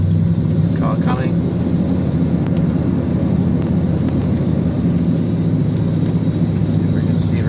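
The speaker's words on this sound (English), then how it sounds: "Car coming." A car approaches on a road in Bolivia between Santa Cruz and Sucre, heard as a steady engine rumble that holds throughout from the traveller's vehicle behind a truck, with faint voices underneath.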